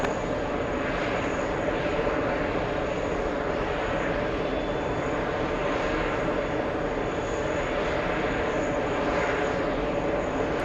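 A British Airways 777 jet rumbles through its takeoff roll, a loud, steady broadband roar that holds without a break, heard from some distance with no clear talk over it.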